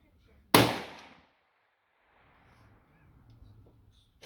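One sharp, close gunshot from a bolt-action rifle at an outdoor public shooting range, followed by a brief decay and low background murmur.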